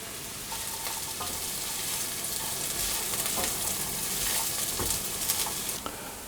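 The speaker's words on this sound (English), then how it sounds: "a little test piece of onions beginning to sizzle, so I'll put the onions in and I'll saute those until they've softened" Chopped onions sautéing in a frying pan, a steady close sizzle throughout with a few light clicks of a utensil near the end.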